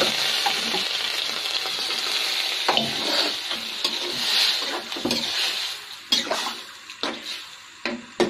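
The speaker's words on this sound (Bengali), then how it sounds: "ঝোল দিয়ে দিব আর দুইটা টমেটো দিয়ে দিব এটার সাথে" Broth poured into a hot pan of shrimp and flat-bean curry, a steady hissing sizzle with stirring clatter and scrapes that grow more broken and uneven toward the end.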